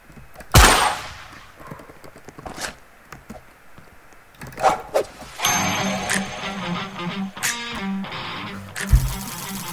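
Gunshots ring out in the Roblox game Murderers vs Sheriffs Duels, a loud sharp shot early on followed by scattered clicks, thumps and busier game effects mixed with background music.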